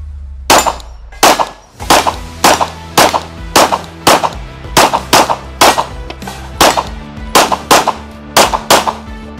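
A Canik SFX Rival S striker-fired pistol fires about fourteen loud, sharp shots in an irregular but steady sequence at close range, with no talking.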